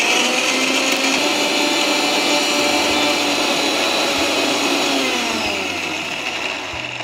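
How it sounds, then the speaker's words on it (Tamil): A Prestige Delight Pro mixer grinder blends cashews into a paste with a loud, steady high-pitched motor whir that holds throughout and then eases slightly toward the end, no speech. "I'm using prestige delight bro mixie"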